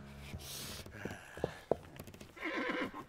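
A horse whinnies loudly up close, with hoof clip-clops and snorting breaths between, then a long rising neigh at the end; no talking.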